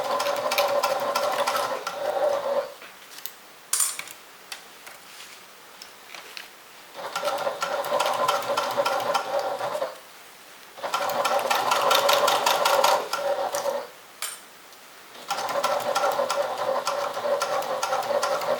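A sewing machine stitches a pocket onto bag lining at a narrow seam, whirring in four sustained runs separated by brief stops, close up with no voices.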